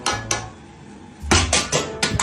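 Plates knock together in a home kitchen during shakshuka cooking: a few sharp ceramic clinks, then a louder burst of four or five rapid clattering hits, close and bright.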